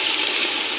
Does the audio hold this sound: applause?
no